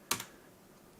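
Computer keyboard keys struck during a Rust programming session: a couple of quick arrow-key clicks, then a louder, sharper press of the enter key, close and alone with no talk.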